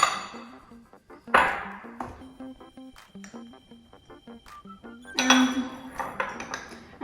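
Cornflake chocolate chip marshmallow cookie dough with sugar, milk powder and salt being mixed in a bowl: a spoon clinks and taps steadily against the bowl, with louder scraping swirls near the start and toward the end.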